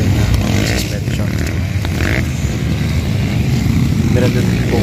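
Enduro trail motorcycles, including production-suspension bikes like CRF 150s and an RM 250-chassis machine with an XR engine, roar steadily at a local motocross enduro event in Valladolid, a continuous loud engine drone with a crowd murmuring underneath.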